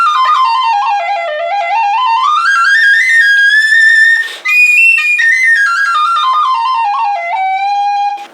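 A Killarney tin whistle plays a bright, sweet melodic run that climbs into its high register, notes sliding and sustaining loud and close, with one brief breathy break midway and no voices.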